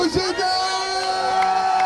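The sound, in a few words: crowd cheering and applauding at a street demonstration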